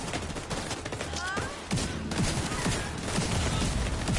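Rapid bursts of automatic gunfire crackle in a firefight in the video game The Division 2, overlapping shots and sharp cracks running almost continuously, with a brief rising electronic whine partway through.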